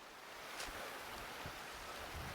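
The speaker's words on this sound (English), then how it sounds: "Cape Horn Falls is flowing." Cape Horn Falls, a 70-foot cascade on the East Fork in the San Gabriel Mountains, pours as a steady broadband rush of falling water, continuous and fairly near, with no voices.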